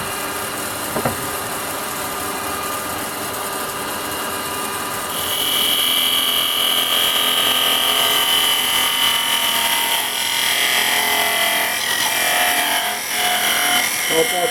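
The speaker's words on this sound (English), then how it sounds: "I'm going to come in with my parting tool" Wood lathe turning a goblet as a parting tool is brought in at a slight angle, a steady whirring hum that jumps into a louder, shrill scraping cut partway through, with someone talking over it.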